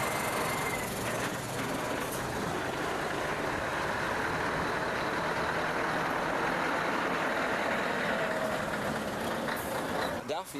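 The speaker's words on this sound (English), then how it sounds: "Followed by the Scania 143M from International Transport." A Scania 143M truck from International Transport rolls past during a vintage wagon run, a steady loud engine roar and road noise that holds for the whole stretch before easing off at the end.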